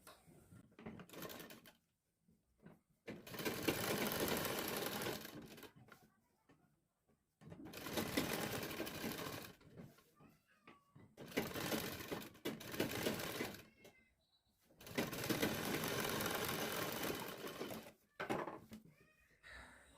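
Sewing machine stitching a temporary tacking seam to hold a folded kurti collar neck, running in three long steady bursts separated by short pauses, close and fairly loud with faint handling noises between runs.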